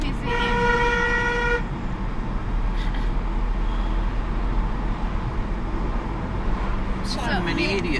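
Car horn giving a steady toot of about a second and a half at another driver, loud and close inside a car over road rumble, followed by people talking.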